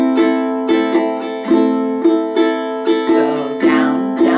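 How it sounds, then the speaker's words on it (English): Close, clear ukulele strumming in the island pattern, bright chords struck in a steady down-down-up-down-up rhythm with regular accented downstrokes, played alone with no voices. "the most accessible strumming pattern is the island strum"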